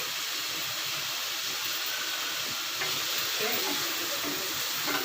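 Chopped onions fry in a pan for egg dosa, a dense, steady, close sizzle and hiss that grows a little busier midway, with occasional faint stirring scrapes.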